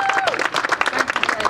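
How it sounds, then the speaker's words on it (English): Dense, continuous clapping from a crowd at a Black Lives Matter rally, close and steady, with a voice briefly audible over the applause. "Give her another round of applause."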